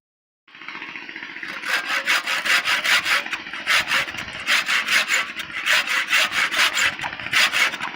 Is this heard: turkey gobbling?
no